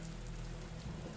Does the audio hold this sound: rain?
yes